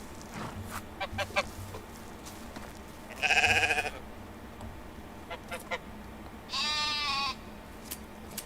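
Sheep bleating in the medieval farming game Medieval Dynasty, two distinct wavering bleats a few seconds apart over faint farmyard ambience and light clicks.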